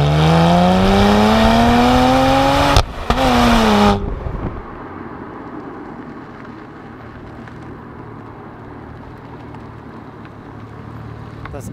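A 2012 BMW 1 Series M Coupé, recorded outside, roars loudly as its engine revs and winds down over a few seconds, then settles into a low, quiet rumble.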